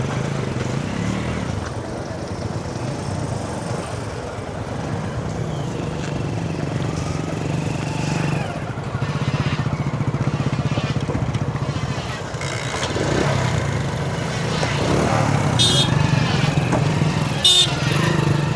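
Motorcycle engine idling and revving while being loaded onto a launch boat at Tahirpur, Sunamganj, a steady droning motor that rises and falls throughout, with background bustle and occasional sharp knocks near the end.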